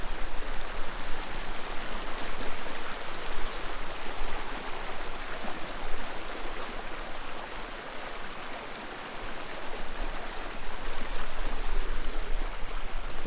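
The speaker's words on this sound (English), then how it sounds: "if you can hear, it is rushing out my spillway pretty good" Rainwater from a full farm pond pours steadily through a spillway, a dense, continuous rushing roar of water heard up close without pause or voices.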